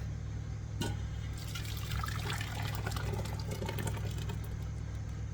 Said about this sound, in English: I'm going to pour everything back in the original stock pot since it was big enough.